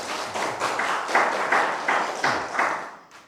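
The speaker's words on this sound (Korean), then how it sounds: "박수 한번 칠까요?" A lecture audience bursts into a short round of clapping, heard as a string of moderately loud, slightly echoing claps in a fairly regular rhythm that ends abruptly after about three seconds, with no one speaking.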